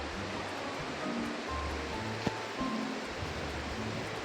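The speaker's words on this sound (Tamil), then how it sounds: "அருவியிலேருந்து தண்ணி வடிஞ்சு வர அந்த அழகை தான் சூப்பராக பார்த்துட்ருக்கீங்க" Water from Chinnakallar waterfall pours steadily through rainy-season forest, a broad, even rushing wash with no pauses, heard from a short distance.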